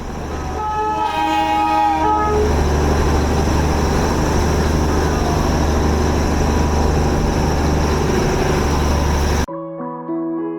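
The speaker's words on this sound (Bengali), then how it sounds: "পাহাড়ি শহরের সরু রাস্তা, বাড়িঘর আর মেঘকে সঙ্গী করে ধীরে ধীরে এগিয়ে চলছে আমাদের এই ঐতিহ্যবাহী রেলগাড়ি" Darjeeling's heritage toy train runs on the mountain railway toward Ghum after Batasia Loop, sounding a few horn toots at the start before a steady, loud rolling rumble continues; it cuts off abruptly near the end.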